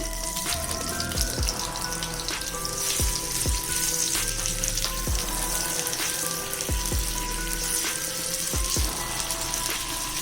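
Reshmi kabab skewers brushed with butter cook on a flat pan over a medium flame, giving a dense, continuous close sizzle and crackle with occasional soft taps, steady in loudness and free of talk.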